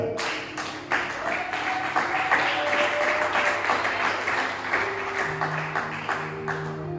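Church congregation applauding during a Sunday thanksgiving service, a sustained wash of many hands clapping in a reverberant room, with music tones and faint voices beneath.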